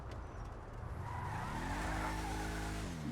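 A Bravado Gauntlet Custom muscle car, styled after a 1970 Plymouth Superbird, accelerates in a driving game, its engine note climbing steadily in pitch over squealing, skidding tires, loud and close.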